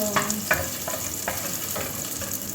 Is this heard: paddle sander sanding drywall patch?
no